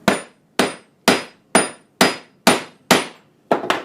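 Metal ferrule struck flat with a hammer on an anvil, eight sharp ringing blows at a steady half-second rhythm, close and loud with no talking.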